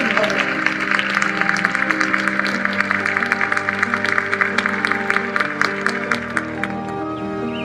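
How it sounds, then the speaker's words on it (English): At a Les Brown motivational speech, the audience claps in a round of applause, the scattered claps mixed under loud, sustained music with a steady beat filling the whole stretch. "Give yourselves a round of applause"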